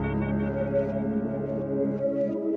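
Synth melody drenched in reverb, its volume chopped into rhythmic eighth-note pulses by a ShaperBox volume shaper, a steady tonal pad with a sustained, washed-out tail.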